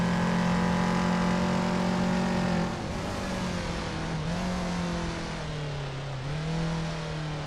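Several racing car engines from a racing video game, a retro BMW 325 E30 Touring among them, drone steadily at sustained high revs, their pitch shifting slightly with gear changes and jostling, with no voices.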